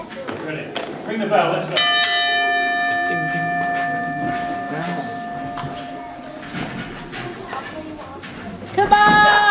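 A ring bell at a wrestling event is struck at about 1.7 seconds and rings out with a long sustained tone over a noisy, cheering crowd. It is struck again near the end as the crowd swells.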